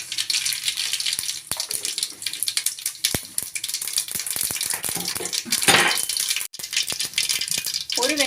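Mustard seeds popping and crackling in hot oil, a busy stream of sharp, rapid spits over a steady sizzle, close and fairly loud.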